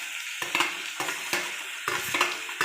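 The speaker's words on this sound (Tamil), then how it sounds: "இது எல்லாமே நல்லா ஃப்ரை ஆகணும்." Red capsicum frying in a pan for capsicum chutney while being stirred, giving a steady sizzle broken by repeated scraping strokes about every second, close and fairly loud, with no talking.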